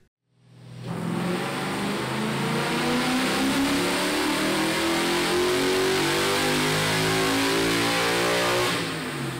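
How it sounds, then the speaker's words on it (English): A 1999 Ford Mustang GT with a swapped Coyote engine revs steadily upward on a dyno in one long sustained pull, loud and close, its pitch climbing before cutting off. "we can get the car on the dyno and see how much power the car is making"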